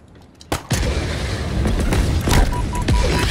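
Heavy weapon fire in Halo Infinite: after a quiet start, a string of booming, rumbling blasts follows in close succession, loud and near.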